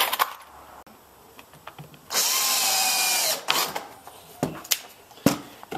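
Cordless power drill driving screws while a light switch box goes into a shed bathroom wall: one sustained whirring burst of about a second and a half, with scattered clicks and handling knocks before and after, no talk.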